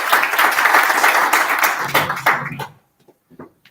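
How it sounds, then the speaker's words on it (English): At a digital product management event, a crowd applauds to welcome a speaker; full, close clapping lasts a couple of seconds, then stops abruptly, leaving a few faint scattered claps. "please help me out welcoming Niklas with a round of applause"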